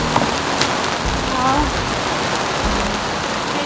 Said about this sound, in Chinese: 然后突然在下雨